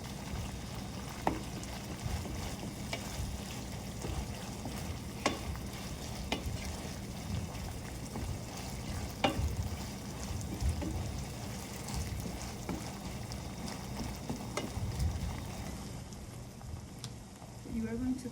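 Ground beef fries in a pan, giving a quiet continuous sizzle and crackle with scattered pops and occasional stirring clinks over the whole stretch.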